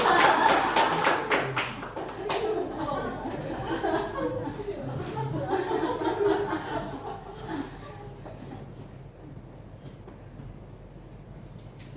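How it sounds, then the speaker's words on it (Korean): Church congregation at a Salvation Army service applauding in a burst of close, dense clapping that thins and fades over several seconds, with voices and laughter mixed in. "우리 한 번 더 뜨겁게 박수로."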